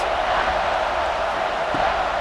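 Stadium crowd in EA Sports College Football 26 roaring behind the defense on a third down in the red zone, a steady dense wash of cheering with no break.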